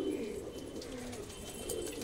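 Pigeons in a net enclosure give low, continuous cooing at a moderate distance, steady throughout with no voices.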